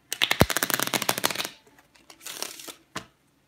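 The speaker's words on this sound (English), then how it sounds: "Let me shuffle one more time." Playing cards are riffled in a quick, crisp burst, then a softer second shuffle follows, with a final sharp snap, close up.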